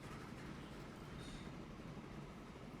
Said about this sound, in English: let's go ahead and watch this train run